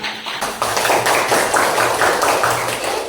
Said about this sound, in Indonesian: Oke, sudah, tepuk tangan untuk kita semua.